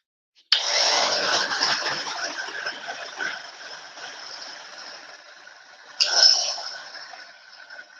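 Hair dryer blowing over a painted fabric bag, switched on to a loud steady whoosh, briefly cut and restarted, with the airflow wavering as it moves.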